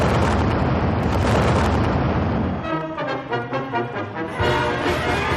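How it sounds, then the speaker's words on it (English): Fireworks bursting at a July 4th show in the United States: several loud booming explosions in quick succession, followed by crackling, fizzing sparkle effects and then another heavy burst, all outdoors with no talking. "But the day is all about what happens at night. Fireworks."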